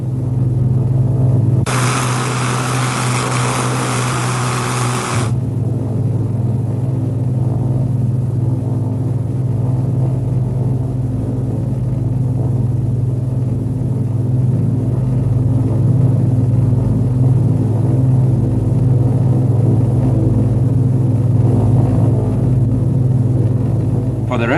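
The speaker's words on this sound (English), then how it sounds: "Meanwhile, the port engines are running at full power." Aircraft port engines roar at full power in a steady, loud, low droning rumble that persists throughout, with a brief harsh broadband burst early on.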